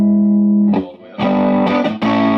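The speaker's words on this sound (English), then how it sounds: "And then if I add more boost, then you're going to hear more boost." Electric guitar played through a boost pedal at full gain, about 22 decibels, giving a thick, lightly overdriven tone; loud sustained chords ring out in three strikes with a short gap between them, no voices present.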